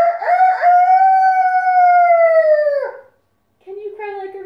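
A child imitates a rooster's crow in a long, loud, drawn-out call, followed after a brief pause by a shorter second crow.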